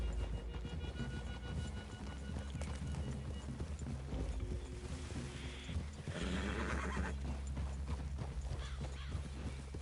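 Horses in the Red Dead Redemption 2 video game neigh and whinny with steady clip-clop hoofbeats over a dense game soundscape with music-like layers, loud and continuous.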